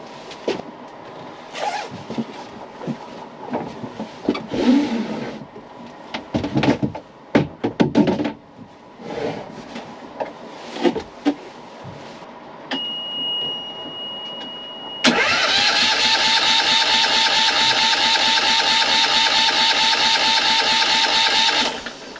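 A Yanmar 1GM10 single-cylinder marine diesel cranks and catches after winter storage, a steady loud running clatter with a high whine settling in close by after earlier handling noises and knocks.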